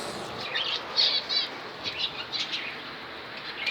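Finches flap their wings in quick fluttering bursts as they are released into an aviary, soft and close, with faint chirps mixed in and no talking.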